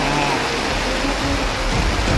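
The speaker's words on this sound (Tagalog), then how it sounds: "Yung ganitong ulan na may kasamang hangin." Wind-driven rain pours steadily on a campsite at KM 90 in Tanay, a dense, unbroken hiss with low rumbling gusts that holds evenly for the whole stretch, with no voices.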